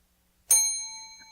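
A small Krampus bell gives a single bright ding, its sharp strike ringing out with clear sustained overtones that slowly decay, close and alone.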